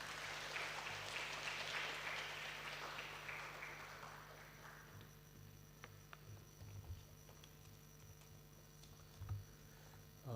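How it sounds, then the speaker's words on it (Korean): A church congregation at a Sunday worship service applauds to welcome the visiting pastor, a soft spread of clapping that fades away over about five seconds into a quiet room with low hum and a few faint ticks. "박수로 같이 청하겠습니다"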